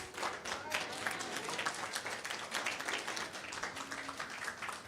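Audience applause at a press conference, a faint, steady patter of many hands clapping throughout, with no voices over it.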